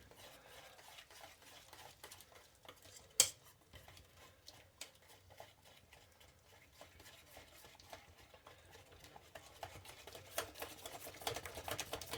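Cheesecake ingredients, including canned filling, being stirred together in a mixing bowl, giving steady scraping and tapping of a utensil against the bowl with one sharp clink partway through, close and fairly quiet with no talking.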